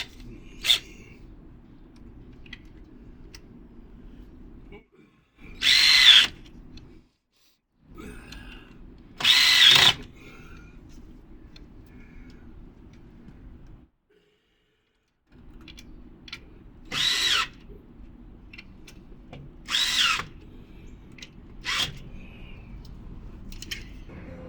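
An electric drill drives self-tapping screws into a C.R. Plastic Products Adirondack chair, with four short loud bursts of high whirring set apart by pauses over a steady low background hum.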